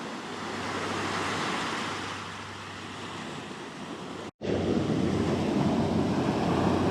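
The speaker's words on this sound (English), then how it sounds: "not a bad little beach" Surf rolls steadily onto a cool beach, a continuous near wash of breaking waves with wind rumble on the microphone, broken by a very brief dropout partway through.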